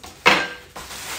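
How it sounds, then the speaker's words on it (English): A butter knife slices open cardboard boxes of newly delivered kitchenware, making a loud scraping rip for about half a second, then a second quieter, longer drag of the blade through cardboard. "I'm cutting these boxes open with one of my butter knives"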